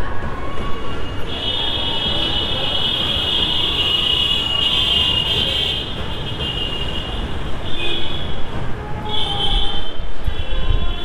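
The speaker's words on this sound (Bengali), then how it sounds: "ট্রেন যাচ্ছে, দেখছে ওদিক দিয়ে ট্রেন যাচ্ছে, দক্ষিণেশ্বরের ব্রিজটা ওই যে।" A train rumbles across the Dakshineswar bridge, a loud continuous roll of wheels on rails with high metallic squeals rising and fading over it, heard from nearby amid traffic noise.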